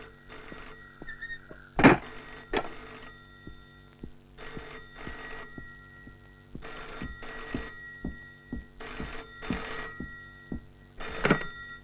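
A telephone in a Telugu film scene rings in repeated bell bursts with short pauses between them, fairly close and clear, with a sharp knock near the start and no talk over the rings.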